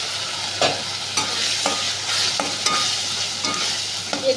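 Ginger, cumin and chilli paste being sautéed for egg chilli, with a steady sizzle and several sharp spatula stirs and scrapes against the pan, close up and with no talking.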